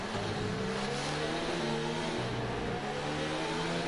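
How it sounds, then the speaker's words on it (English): Red Bull racing car in a video game race at Singapore, its engine droning steadily at high revs with shifting tones, loud and continuous with no talk. "You can just listen to the engine of the Red Bull just working."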